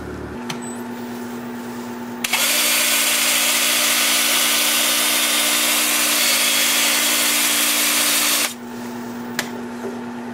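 A loud, steady whirring and abrasive hiss of a power sander on a cherry burl wooden bowl runs for about six seconds, starting and stopping abruptly amid a quiet room.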